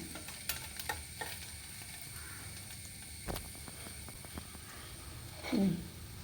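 Garlic sautés gently in a pan for a Nepali dish, giving a faint, low sizzle with occasional soft clicks and scrapes from stirring.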